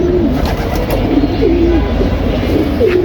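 Repeated low, throaty coos from a female pigeon rolling in close succession over faint background rustle, no talking.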